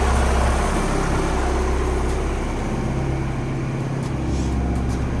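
An engine idles steadily after its idle and throttle spring have been adjusted, a close, loud, even low rumble with a constant pulsing throb and no break for the whole stretch.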